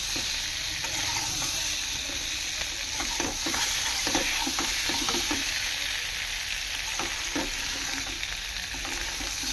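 Small potatoes for aloo dum fry steadily in hot oil, a continuous close sizzle broken by a few scraping stirs, with no voices.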